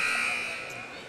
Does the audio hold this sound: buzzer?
yes